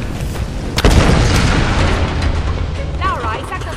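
An explosion in the Tomb Raider video game, a loud boom hitting about a second in and rumbling on under a dense, noisy game soundscape, with a brief tonal chirp near the end.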